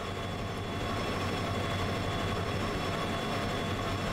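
Heavy locomotive laboring under a big load in the train simulator game Derail Valley, a steady dense low rumble with constant mechanical drone and faint tonal whine, continuous and close, no voices.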